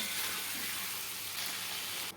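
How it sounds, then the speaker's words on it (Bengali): Drumstick and potato curry stirred and frying in a pan, a steady close sizzle with faint stirring scrapes running throughout. "তো এটাকে আমি খুব ভালো করে নাড়িয়ে চাড়িয়ে কষিয়ে নেব।"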